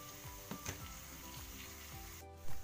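Spices, onion, ginger and garlic fry quietly in a pan for aloo dum biryani, a soft steady sizzle broken by a few light scrapes of stirring and a brief louder clatter near the end.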